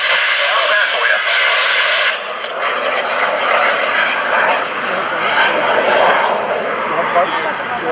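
An FLS Microjet airplane flies at the 2015 Greenwood Lake Airshow, a loud, sustained jet roar close overhead while an announcer talks over it.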